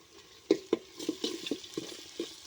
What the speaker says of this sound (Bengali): এবার এগুলোকে আমি ভালো করে নেড়ে নিব, একটু ভালো করে ভেজে নিব